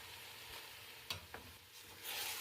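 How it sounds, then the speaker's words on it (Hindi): Minced chicken seasoned with salt and black pepper being stirred in a pan, a soft continuous sizzle with a couple of sharp spoon scrapes and taps, close but quiet. "इसे अच्छी तरह से मिक्स कर लेंगे"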